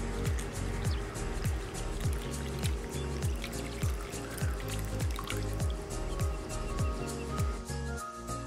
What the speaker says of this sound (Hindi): मैं थोड़ा सा पानी इसमें और डालने वाला हूँ, ये जो जार है वो उसे मैं फुल कर देने वाला हूँ